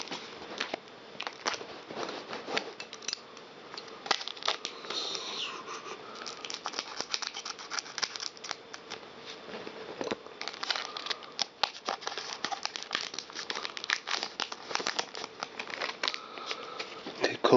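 Pokemon Flashfire booster packs are opened and the cards handled: dense crinkling of foil wrappers and brisk shuffling and flicking of cards, continuous and close.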